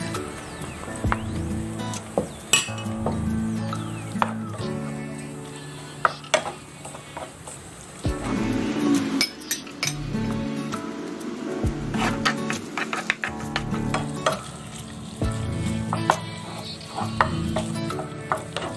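Pork belly frying in a little oil in a pan, with a steady close sizzle under busy stirring, scraping and clattering of a spatula against the pan throughout.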